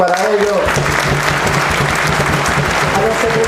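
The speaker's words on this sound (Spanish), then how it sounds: "pido un fuerte aplauso para ellos" Loud crowd applause at a bank workers' union plenary in Buenos Aires province, dense clapping over a murmuring hall, with a voice briefly at the start and end.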